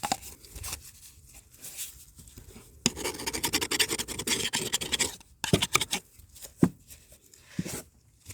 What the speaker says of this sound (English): Use this flathead screwdriver to clean on the inside like that.